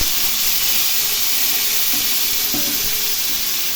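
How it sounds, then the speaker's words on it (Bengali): Dry red chilies and nigella seeds sizzle in hot oil in a wok, a loud, close, continuous crackling hiss that holds steady throughout. "এর মধ্যে শুকনো লঙ্কা কালো জিরে ফোড়ন দিয়েছি।"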